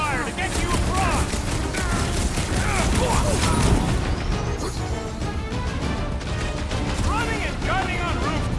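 Gunfire crackles and booms through a chaotic battle in the Marvel's Guardians of the Galaxy video game, dense and loud throughout amid crashes and game effects, with voices talking over it.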